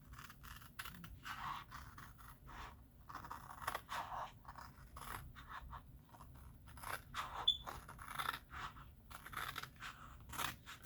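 Trimmers with a longer blade snipping apart vinyl transfers for Valentine's decor, repeated crisp cutting and scraping strokes at close range in a quiet room.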